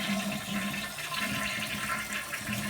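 A toilet flushes close by, a steady rushing gush of water that keeps going without a pause for the whole stretch.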